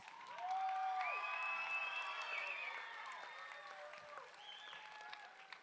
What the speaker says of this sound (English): Oh, they need a bigger cheer than that.